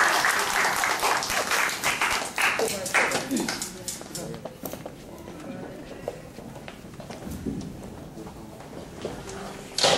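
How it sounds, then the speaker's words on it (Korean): Applause from parents and attendees at a church presentation event, a dense burst of clapping at first that thins out and fades, with talking heard over it. "우리 박수 한번 하면서 환영하겠습니다"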